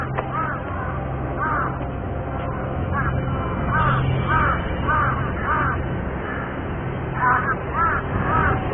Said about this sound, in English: In Bhutan, the raven is the incarnation of the protective deity Yeshi Gornpo